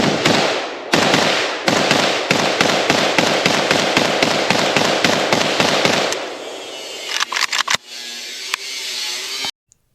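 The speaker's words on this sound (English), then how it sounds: "Alright, first shots ever out of the Flatjack." Polish Flatjack slab-side AK rifle firing a long rapid string of loud, close gunshots in steady rhythm, then a few scattered final shots before falling quiet.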